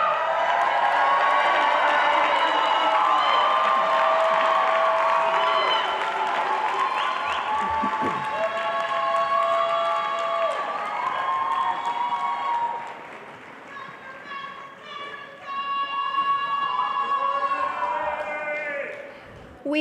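Applause from a commencement audience at a university School of Education as Doctor of Education candidates rise, steady crowd clapping filling the room with cheering and voices mixed in, thinning briefly toward the end.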